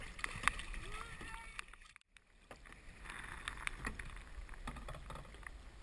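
Kayak paddle strokes on the water in Deep Cove, soft repeated splashes and drips as blades dip and pull, fairly faint, with wind and voices talking in the background.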